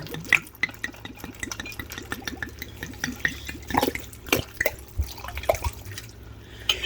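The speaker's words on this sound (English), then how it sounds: "I need to add 4 cups of water." Water splashes and trickles into a pot of rice in uneven bursts, with sharp drips and sloshing that grow busier toward the end.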